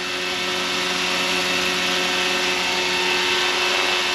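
A Roban 600-size Hughes MD500 scale RC helicopter runs steadily with freshly tightened blades, a loud, constant high-pitched motor whine and rotor drone close by, uninterrupted and without speech.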